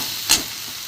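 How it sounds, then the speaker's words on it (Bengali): Minced meat frying with spices in a pan gives one brief, sharp burst of sizzling and scraping as it is stirred, then settles to a quiet background hiss. "কিমা দিয়ে ভালো করে একটু কষে নিই"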